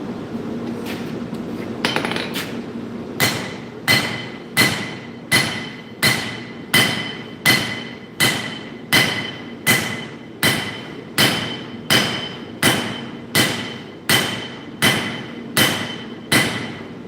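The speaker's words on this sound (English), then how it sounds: "I've got to switch hammers first here" Steel for nakiri knives is forged with a hammer: after a brief hum and a few softer taps, about fourteen loud, ringing hammer blows fall at a steady, unhurried pace, each with a metallic ring that decays quickly, close and alone.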